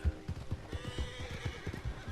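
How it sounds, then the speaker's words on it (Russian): Horses in Red Dead Redemption 2 whinny and neigh over a steady patter of hoof clip-clops, the hoofbeats repeating in a quick uneven rhythm throughout, fairly close and clear with no talk. "Вон лошади вообще повсюду."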